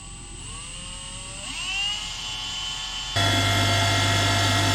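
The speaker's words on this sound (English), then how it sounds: "I might have to drill that one out again, using the little drill bit" Small drill bit boring out a hole in a part of a Holden HT Monaro collapsible steering column, a steady whirring motor that rises in pitch, then a louder, harsher grinding whine as the bit bites in, close up with no talk.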